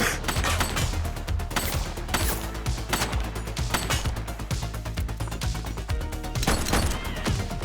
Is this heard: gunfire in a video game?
yes